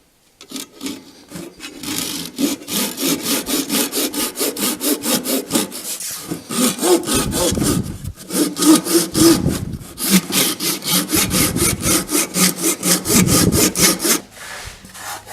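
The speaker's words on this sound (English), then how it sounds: "Using a dovetail saw to cut these off." A dovetail saw cuts glued oak splines off a wooden box, with steady rhythmic back-and-forth rasping strokes, loud and close, pausing briefly between cuts.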